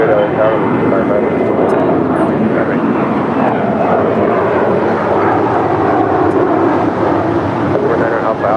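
Airliner taking off from runway 25 right at LAX, a loud, steady roar of jet engines that holds unbroken throughout, with radio-style talk running over it.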